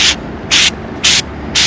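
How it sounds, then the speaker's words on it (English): Short bursts from a spray paint can lay multiple light coats on a DIY drawer system, four evenly spaced loud hisses separated by brief pauses. "you just don't want to do like a solid spray because then it'll run"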